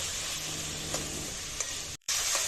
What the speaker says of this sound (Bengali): এবার পরিমাণ মতো হলুদ ও লবণ দিয়ে সুন্দর করে ভেজে নেব।